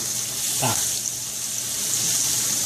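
Garlic frying in a pan, a continuous loud hissing sizzle close up, with a brief voice-like sound in the middle.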